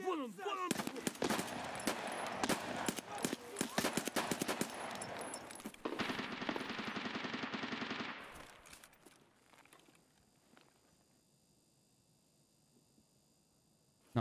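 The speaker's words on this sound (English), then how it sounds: "there's like 4 scabs shooting at me" Rapid automatic gunfire in Escape from Tarkov bursts loud and close in dense volleys for several seconds, then gives way to a sustained rattle and fades to quiet, with a voice speaking briefly over it.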